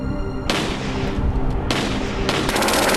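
Gunfire from a shootout in the film Spring Breakers: loud, dense bursts of shots and blasts that surge and break off, filling the clip without talk.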